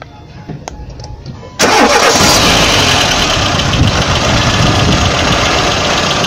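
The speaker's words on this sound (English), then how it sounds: "let me go and start the engine" A car engine cranks and catches about a second and a half in, then runs loudly and steadily; only faint background noise comes before it.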